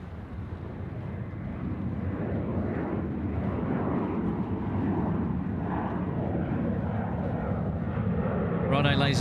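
Qantas passenger jet at Sydney Airport, a steady loud engine roar sustained throughout with a slight swell near the end, heard from a spotting position with voices murmuring underneath.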